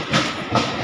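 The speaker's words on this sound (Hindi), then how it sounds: "हमारी ट्रेन आ गई है और हम इसमें जाने वाले हैं" A train arriving at a station in Chennai: a brief burst of rolling rail noise and hissing, rising in two pulses, loud and close with no voices.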